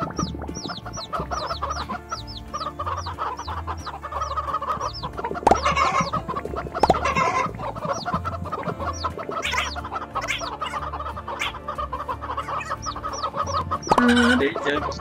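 Chickens cluck and squawk steadily over a looping game soundtrack, with a couple of louder bursts mixed in.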